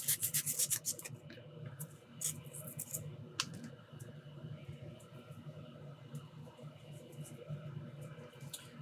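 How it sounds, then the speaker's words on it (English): Sandpaper rubbing off cured UV resin during a fine circuit trace repair, a run of quick rasping strokes at first, then quieter intermittent scratching over a low steady hum. "We're grinding off some UV resin."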